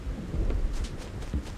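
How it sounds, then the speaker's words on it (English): Steady rain patters throughout while low thunder rumbles and rolls in the background, with no voices, in the video game Animal Crossing. "So I can't help but notice it's raining today."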